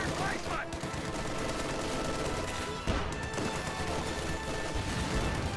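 Machine gun and pioneer rifle fire in a World War II strategy video game, with a dense continuous rattle of shots and crashes under an ongoing commentator's voice.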